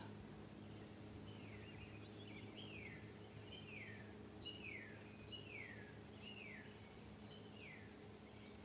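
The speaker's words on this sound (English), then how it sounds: "There's so many birds around here" Birds chirping outdoors near a porch: a repeated descending whistled call sounds about eight times at a steady pace, faint against a constant low hum and insect buzz.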